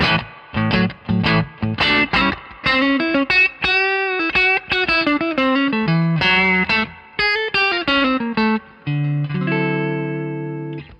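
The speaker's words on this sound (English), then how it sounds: "So let's start with the neck pickup." Warm, round electric guitar tone from the neck pickup playing a fast run of picked notes and chords, with a sustained chord ringing at the end.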